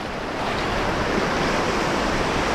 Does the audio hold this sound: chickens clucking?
no